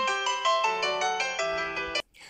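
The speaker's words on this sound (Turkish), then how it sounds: "Telefonumun sesini sessiz almayı unutmuşum." A mobile phone ringtone plays loudly and close by as a bright, repeating electronic melody that cuts off abruptly, followed by a short faint sound.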